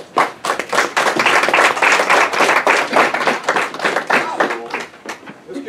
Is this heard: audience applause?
yes